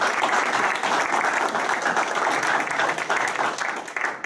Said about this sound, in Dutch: ik wil Laura daar even met z'n allen een geweldig applaus voor geven